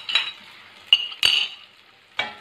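A spoon stirs ground garlic, ginger and green chilli into beef Kabuli pulao in a pot, giving a few separate scraping clinks with quiet gaps between them.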